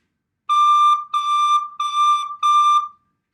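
Four sustained recorder notes on D, the same pitch, clear and steady with short gaps between them, played alone.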